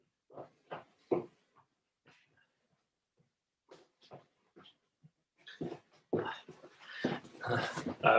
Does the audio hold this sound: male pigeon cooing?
no